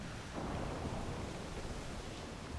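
A thunderstorm at sea in Assassin's Creed IV Black Flag, with a broad, continuous roar of wind, rain and a low thunder rumble that swells slightly early on and holds steady, with no voices.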